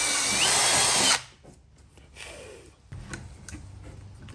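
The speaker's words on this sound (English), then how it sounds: "let's get the drill and drill some holes" A power drill boring holes in the wheel well of a Lexus camper, a loud whirring burst that cuts off, followed by quieter taps and handling noises and a second softer drill run.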